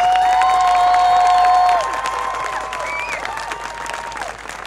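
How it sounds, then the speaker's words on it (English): A crowd at a climate march in Adelaide claps and cheers loudly at first, then the applause thins out and tapers off over a few seconds. "One more round of applause"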